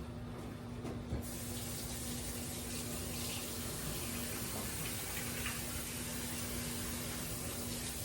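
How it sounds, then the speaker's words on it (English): Water runs steadily from a kitchen tap while hands are washed, a faint continuous splashing stream with a low steady hum underneath and no talk. "I'm going to wash this off my hands."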